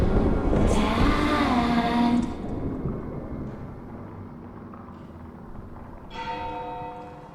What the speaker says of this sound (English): Every time you hear the clock chime, new rooms can be explored.